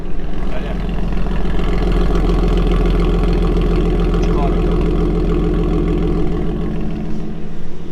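A Nissan 370Z engine running with no catalytic converter, a loud, close, steady idle-like drone with a breathy exhaust rumble, while people talk over it.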